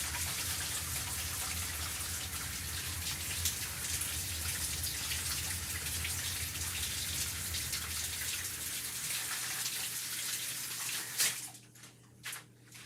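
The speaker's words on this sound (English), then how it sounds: "I really want to wash my hands" Water running steadily from a tap as hands are washed to remove eucalyptus, a continuous splashing hiss that stops near the end, followed by a few brief knocks.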